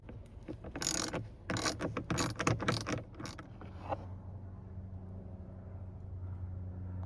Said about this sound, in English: We're going to go ahead and remove those fasteners. 7mm.